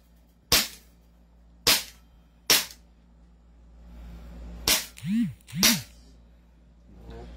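An SRC Hi-Capa airsoft pistol fires in the cold outdoors, five sharp, loud pops spaced irregularly over several seconds, with a voice speaking quietly in between.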